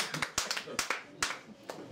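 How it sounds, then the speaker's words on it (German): A small live audience at a cabaret show claps scattered, uneven applause, a few distinct hand claps in quick irregular succession, fairly faint. "Jetzt kriegt der Sorchatl Applaus"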